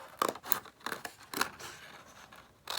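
Scissors make a few close, crisp snips while fussy cutting around a stamped rose border on alcohol ink paper for a handmade card. The cuts are irregularly spaced and fairly quiet, with no talking.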